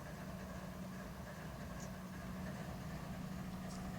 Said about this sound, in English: Let's get this train rolling.